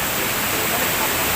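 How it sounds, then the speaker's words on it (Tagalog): Steady broadband roar of the Busay de Gracia Falls waterfall in Balenong, a continuous loud wash of falling water with no breaks, filling the whole short stretch close by. "So ito yung tinatawag nilang Pusay de Gracia Falls ng Balenong"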